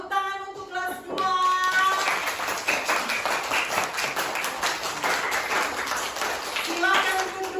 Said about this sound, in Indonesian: Tepuk tangan untuk kelas 2.